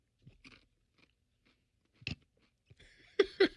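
Crisp, close crunches of a tortilla chip topped with habanero and carrot salsa come in a few sharp bursts against near silence, the loudest at the end.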